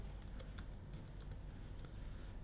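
Keys clatter on a computer keyboard as Java code is entered, a quick, faint run of close clicks and taps with no voice over them.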